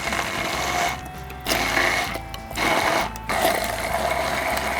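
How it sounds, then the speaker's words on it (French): Immersion blender grinding garlic piri piri sauce, a loud, close, buzzing motor whir running in several bursts separated by brief pauses. "maintenant, on va prendre notre pied mélangeur"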